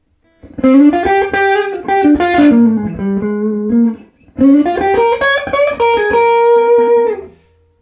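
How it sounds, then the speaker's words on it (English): Two sustained phrases of distorted electric guitar through a Session Blues Baby 45 amp with the drive raised to 6, loud and close, with rich gritty harmonics and a brief gap between them. "Push the drive up a bit to 6."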